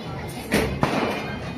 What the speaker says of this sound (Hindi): और वो देखो बम पटाखे, देखो कहाँ फूट रहे बेटा